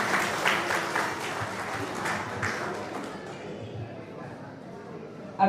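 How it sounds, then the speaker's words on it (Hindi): Audience applause at a Birsa Munda 150th birth anniversary ceremony, a dense spread of clapping that holds steady and then thins out, with some voices mixed in. "तालियों के साथ जाएंगे।"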